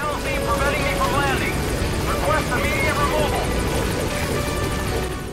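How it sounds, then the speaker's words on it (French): A helicopter in the video game Metal Gear Solid 5 drones steadily and loudly throughout, with a continuous rotor-like hum beneath someone speaking in French over it. "Où est l'hélico?"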